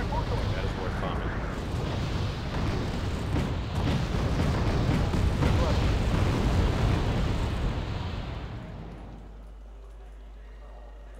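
Bombing explosions rumble through a Wargame: AirLand Battle match, a dense, loud, continuous roar of blasts and debris lasting several seconds before abruptly dropping to a low steady hum.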